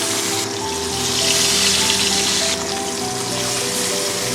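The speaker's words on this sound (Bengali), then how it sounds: "একটা একটা করে মাছ আমি তেলের মধ্যে দিয়ে দেবো।" Pabda fish sizzle as they are laid one by one into hot oil in a pan, a steady bright crackling hiss that swells briefly, close and alone without talk.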